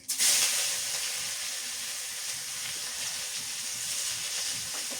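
Five-spice seeds and chopped onion hit hot oil with a loud hiss that settles into a steady, dense sizzle throughout, no voices over it.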